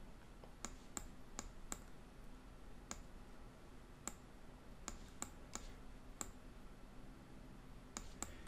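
Sharp mouse clicks while posing a ZSphere rig in ZBrush, about fifteen isolated clicks spaced irregularly, some in quick pairs, over a faint steady room hum.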